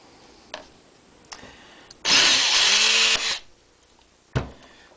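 Power drill enlarging two holes in a knife sheath clamped to a coffee table, one loud whine lasting about a second that revs and winds down, set between a few sharp handling knocks.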